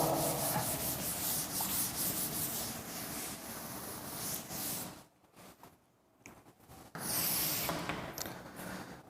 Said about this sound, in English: I am going to rub it.